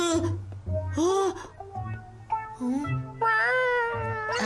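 A cartoon cat meows repeatedly in an animated Doraemon episode dubbed in Tagalog, several drawn-out, wavering cries close up, with brief pauses between them and a low hum underneath.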